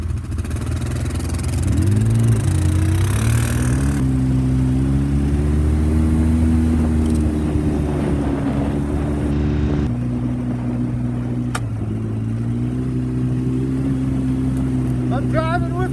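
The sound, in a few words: car engine while driving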